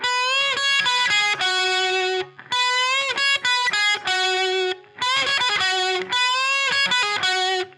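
Distorted electric guitar playing a lick from a solo, with notes bent up a full step, several phrases separated by brief pauses, loud and close.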